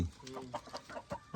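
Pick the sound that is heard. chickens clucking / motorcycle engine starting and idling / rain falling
chickens clucking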